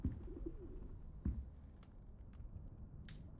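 Owl in the video game Hogwarts Legacy giving soft low hoots and coos, a few separate calls over a quiet game backdrop with faint small sounds.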